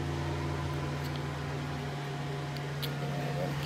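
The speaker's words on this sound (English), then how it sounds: "so now the blower's on" A boat's engine-compartment blower fan runs with a steady, even mechanical hum and airy drone, constant throughout with no other sounds.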